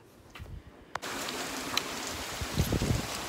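Steady rain falls outdoors on a cold day, a dense continuous hiss with scattered patter and a few louder close drops and knocks toward the end, no voices.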